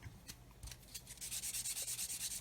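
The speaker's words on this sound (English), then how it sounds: "we can go over and sand away to our heart's content until the seam disappears" Sanding sponge rubbed over the seam of a plastic Airfix 1/24 F6F-5 Hellcat model kit, giving soft close scratchy strokes that start irregular and settle into a quick steady back-and-forth rhythm.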